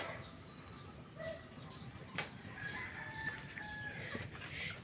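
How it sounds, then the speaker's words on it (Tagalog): Chickens clucking and calling in a quiet outdoor yard at a former pig farm, a few short bird calls over steady background hiss, no talking. "Yan yung mga ibang manok natin"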